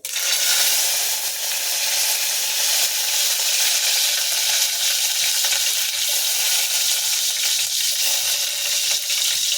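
Green chillies and curry leaves fry in hot oil for a tomato pickle, giving a loud, steady, close sizzle and crackle that runs unbroken throughout with no talking.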